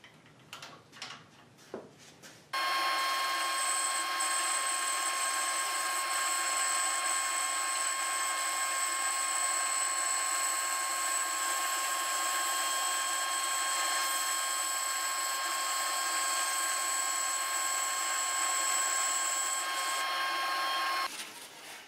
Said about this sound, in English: cutting a board maybe 25 thousandths inch thick might be a good starting place